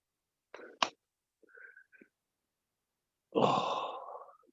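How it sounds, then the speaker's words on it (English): Someone breathes into an open microphone during an online mobility class, a few short puffs and scrapes followed by a longer heavy sigh-like exhale, close but quiet against silence. "Whoever it is who keeps breathing into the microphone"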